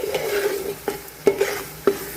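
Pav bhaji masala being stirred in a large sizzling pan, a steady fry hiss broken by four sharp scraping strokes of a spoon, close and fairly loud.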